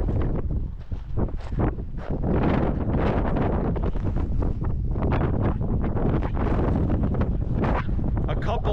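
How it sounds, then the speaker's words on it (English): Strong wind at Griffith Observatory buffets the microphone in heavy, rumbling gusts, roaring continuously with brief surges and dips, close and loud. "Man, is it windy up here."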